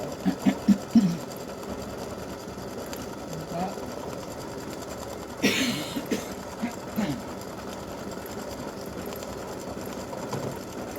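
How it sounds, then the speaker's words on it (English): A home embroidery sewing machine works satin stitching around the edges of an awareness ribbon, with rapid steady mechanical whirring and intermittent louder thumps, and talk heard at moments. "getting close to stitching the satin stitching around the edges."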